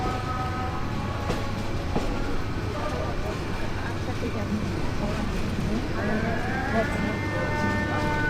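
The Kishoreganj Express rolls through Narsingdi railway station with a dense, steady rumble and rattling, heard from aboard, with thin tonal squeals or whistle-like lines rising and fading.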